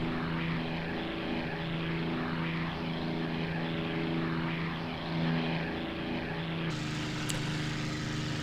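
Steady drone of a Hurricane Mk.1's Merlin aircraft engine in the flight sim IL-2 1946, a smooth, even propeller hum held at constant power throughout, with a slight shift in tone near the end and no talking.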